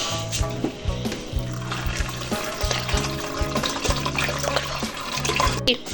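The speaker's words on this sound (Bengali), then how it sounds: "ঠান্ডা পানি দিয়ে দেবো" Cold tap water runs steadily over freshly boiled noodles while cooking, a continuous splashing pour that stays loud and close throughout with no talking.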